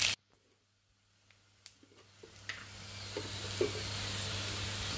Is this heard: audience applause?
no